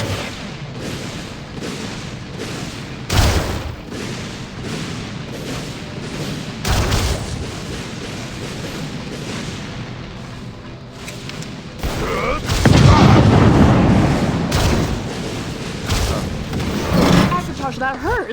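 Autocannon fire in Skyrim, heard as heavy booming bursts spread through the stretch, the loudest cluster toward the end, with a player talking over the game sound.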